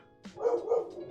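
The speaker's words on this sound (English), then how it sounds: "that is our dog defending the house from the post people" A house dog named River barks a few times at postal workers, sharp indoor woofs standing alone.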